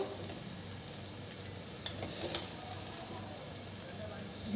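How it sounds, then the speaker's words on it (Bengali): Jeera rice being stirred in a pan with salt and sugar gives a faint background sizzle, with two brief spoon clicks against the pan partway through. "আবার একটু নেড়ে দেবো"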